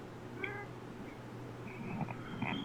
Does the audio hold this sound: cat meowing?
yes